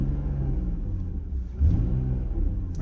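A BMW E46 wagon's engine runs at a steady, loud idle with a deep rumble, then briefly swells in a short rev midway before settling back.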